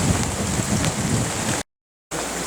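A steady rain shower in a North American forest hisses evenly and close for about a second and a half, breaks off into a short silent gap, then comes back at the same level.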